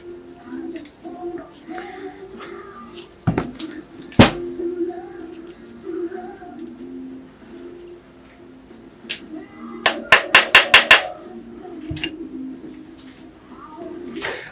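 A hammer taps a screwdriver bit to loosen a tight screw on a ZX600E sump in a workshop, first as a few sharp separate knocks and later as a quick close run of five or six metallic taps.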